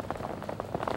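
Rain pattering steadily on a surface at a bass fishing tournament on Kerr Lake, dense close patter of drops with no voices.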